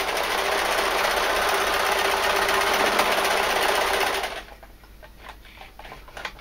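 A sewing machine stitches a trouser belt, running in a loud, steady buzz for about four seconds before stopping abruptly, then only faint rustling and small handling noises remain.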